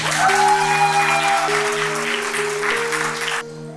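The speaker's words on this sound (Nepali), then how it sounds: "ताली बजाउनु।" A crowd of wedding guests at a Christian ceremony applauding together, a dense steady clapping throughout that cuts off near the end, with tonal music in the background.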